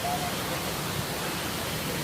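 Ladai waterfall pours down from above as a constant, even broadband rush of falling water, loud and unbroken throughout, with a faint trace of a voice in the background.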